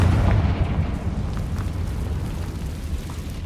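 A Confringo blasting spell in Hogwarts Legacy explodes as a deep, rumbling blast that is loudest at the start and slowly decays into a low roar.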